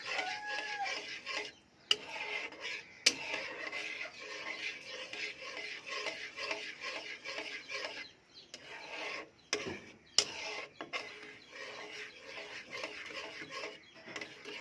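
Chhena halwa of cottage cheese and milk powder being stirred in a pan, a continuous soft rubbing scrape with rhythmic strokes and a few sharp clicks, close and low in level, without speech.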